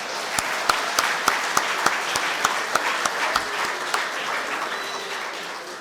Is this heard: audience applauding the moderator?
yes